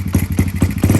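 A Honda CRF70 dirt bike engine, choke on, fires on the first kick and runs with a loud, close, rapid popping putter at a steady uneven idle.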